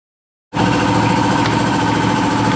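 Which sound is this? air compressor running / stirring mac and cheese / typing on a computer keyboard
air compressor running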